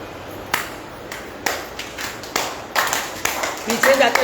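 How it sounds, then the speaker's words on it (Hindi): Loud hand claps during a yoga exercise come as single sharp claps spaced about a second apart, close and crisp. A voice talks quietly between and under them. "ताली जोरदार आवाज आना चाहिए।"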